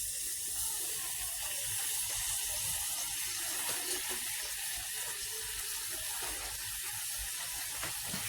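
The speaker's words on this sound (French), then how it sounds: "je vais ajouter donc un peu d'eau chaude" Hot water poured into couscous as it cooks, a steady watery hiss and trickle held at an even level throughout, close by with no talk.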